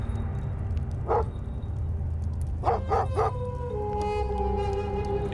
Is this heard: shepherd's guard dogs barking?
yes